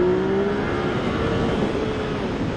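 A Yamaha XSR 900 motorcycle accelerating, a dense, steady engine roar with a rising tone early on, loud and close, with no voices.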